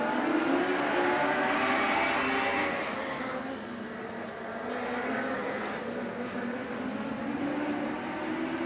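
Lightning sprint race cars at Merritt Speedway roar together off the green flag start, a loud, dense engine blare that swells then holds steady as the pack accelerates, with no talk over it.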